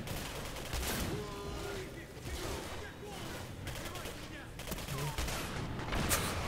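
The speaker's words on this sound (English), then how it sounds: "a machine gun, but it's a unique machine gun" Rapid machine gun fire from the video game Singularity, a unique machine gun, rattling steadily and loudly in sustained bursts throughout, with game effects and a voice talking over it.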